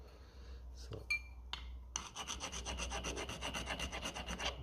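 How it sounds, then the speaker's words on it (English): Rubbing and polishing a pitted metal part of a Lucas D3A4 distributor, a rapid rhythmic rasping stroke repeated steadily at close range after a few scattered taps, no talk. "Needs to be polished up anyway. It's fairly well pitted."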